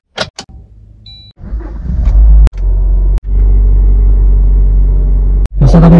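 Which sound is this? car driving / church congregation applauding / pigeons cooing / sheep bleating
car driving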